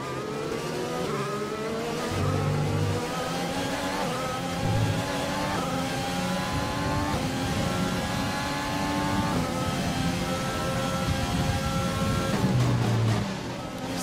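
A Formula racing car engine in a racing game at the British Grand Prix, whining at high revs with rising and falling pitch sweeps, tires slipping as the motor strains and loses grip, continuous and loud.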